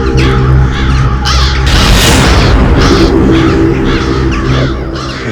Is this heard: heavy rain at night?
no